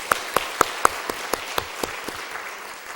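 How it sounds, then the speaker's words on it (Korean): Church congregation clapping in thanks after a prayer: a run of about ten sharp, evenly spaced claps that slow and fade away over three seconds, fairly close and with no voices. "살아계신 하나님께 감사와 영광의 박수 올리겠습니다"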